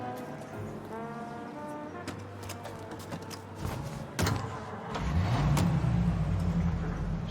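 A car drives in Mafia: Definitive Edition, its steady engine hum running throughout with a brief bump partway and a louder, rougher engine swell toward the end, no talk over it.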